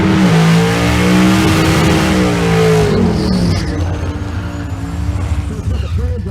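A Corvette drag race car's engine roars loud and close at a drag strip, a sustained high rev that drops in pitch partway through and settles into a rougher, lower rumble.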